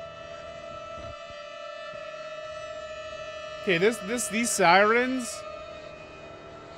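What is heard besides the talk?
siren in video game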